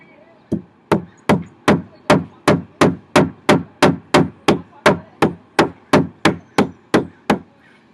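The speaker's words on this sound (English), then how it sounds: "So I'm going to show you how to smash a nail." A hammer driving a nail, about nineteen sharp, loud, close strikes in a steady, even rhythm, one roughly every 0.4 seconds, with no talking.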